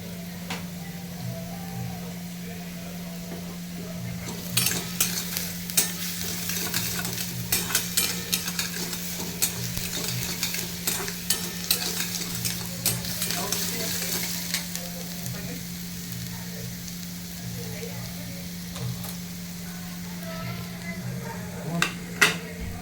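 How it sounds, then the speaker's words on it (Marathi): Garlic sizzling in melted butter in a pan while being stirred for homemade pizza sauce, a steady close frying hiss broken by small scraping clicks from the stirring. "ह्याला आपण असं हलवत राहायचं आहे"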